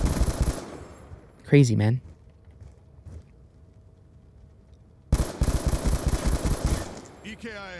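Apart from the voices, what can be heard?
light machine gun fire in the video game Black Ops 2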